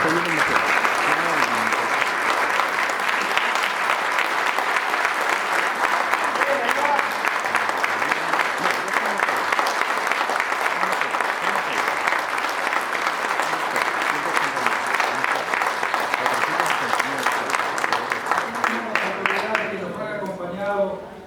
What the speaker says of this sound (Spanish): renovamos, por favor, nuestro reconocimiento con un fuerte aplauso.